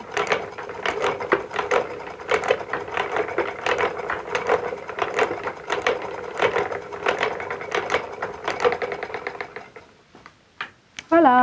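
A spinning mechanism twists fibre into thread, giving a steady run of close, rapid ratcheting clicks and gear-like rattles that stops near the end, followed by a few sharper mechanical knocks.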